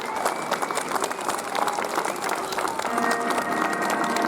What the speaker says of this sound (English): Please give them a huge round of applause as they come out for their final bows